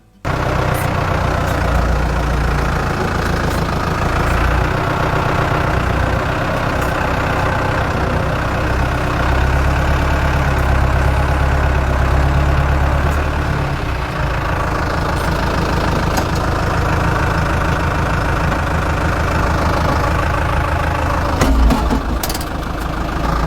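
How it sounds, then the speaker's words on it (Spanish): A tractor's heavy diesel engine idles steadily and close for the whole stretch, a constant low throbbing rumble with slight knocking, no voices. "voy a cargarlo con el tractor y habrá que subir para casa"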